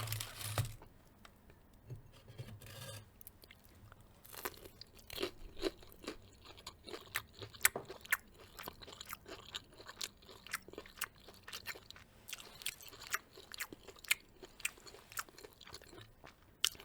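Popeye's fried chicken tenders are bitten and chewed close to the mic, with crisp crunches and wet chewing in an irregular rhythm, plus occasional crinkling of packaging.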